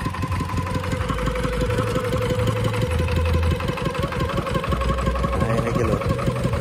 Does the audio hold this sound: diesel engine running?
yes